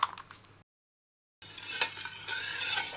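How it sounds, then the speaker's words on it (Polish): Gingerbread dough for Christmas cookies being stirred in a bowl, with scraping, clinking strokes close by, broken by a short silent pause before the stirring resumes more busily. "Dokładnie mieszam."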